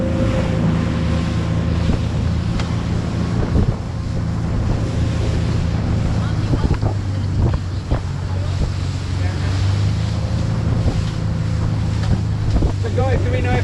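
Strong wind buffets the microphone at a beach in Monaco, a steady roaring rush with low rumble and surf-like wash running throughout, loud and close, with a faint voice in the background.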